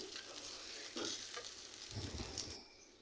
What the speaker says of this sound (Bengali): এখানে পেঁয়াজগুলো ভাজা ভাজা হয়ে গিয়েছে